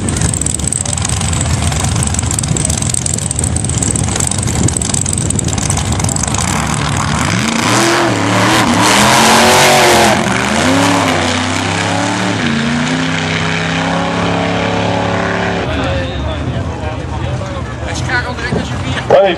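A Super Comp drag racing car launches at the Drachten drag race finals, its engine roaring loudly and surging up and down in pitch as the driver gets on the pedal three times and the power breaks traction, under announcer commentary.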